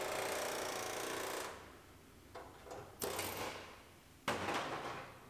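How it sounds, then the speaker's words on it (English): A drill whines into the metal body panel of a 2018 GMC Sierra Denali pickup in a long burst, then stops; after a quiet gap, several shorter bursts of drilling follow, fairly close. "And we can get in there with the drill."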